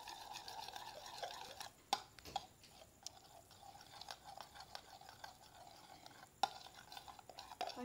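A spoon stirring a homemade whitening night cream mixture with two tablespoons of milk in a small bowl, giving quiet, soft scraping and clicking strokes with a few sharper taps, close and faint, no talking.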